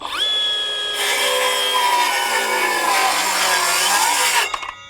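A Milwaukee M12 FUEL Gen II 5-3/8 inch cordless circular saw makes a full-depth 45-degree bevel cut through wood: the motor spins up, then a loud, steady cutting whine runs for several seconds before winding down.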